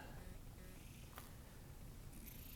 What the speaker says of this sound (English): I hear him purring.